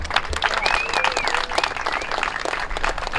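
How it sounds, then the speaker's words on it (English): An audience at a classic car concours d'elegance applauds, a dense, continuous wash of clapping with some voices rising through it. "how about a round of applause to John?"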